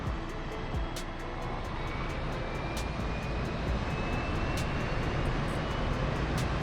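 Aircraft engine in the DCS World flight simulator, a steady droning roar that holds at an even level throughout with a faint rising whine and periodic clicks on top; no voices.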